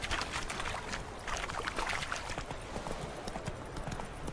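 Horse hooves clip-clop in a steady, continuous rhythm as the mount moves through The Witcher 3 Wild Hunt, with game ambience underneath and no talking.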